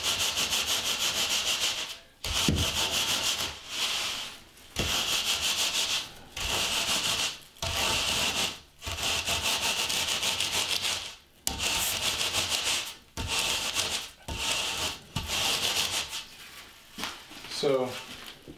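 A steel trowel screeds a deck mud mortar bed for a tiled floor, giving repeated gritty scraping strokes about once a second with short gaps between them, close and loud, with someone talking in places.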